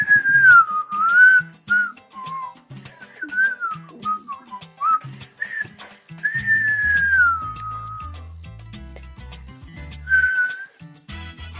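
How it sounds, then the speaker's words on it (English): A person whistles a wandering tune alone at close range, with long sliding notes and short chirps, over faint low background tones. "And I was still whistling like this."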